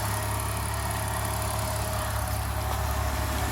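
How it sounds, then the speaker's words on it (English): A BMW engine idling in a warehouse, a steady even hum with a low rumbling pulse, close and continuous with no voices. "All right, the BMW is running. She sounds good."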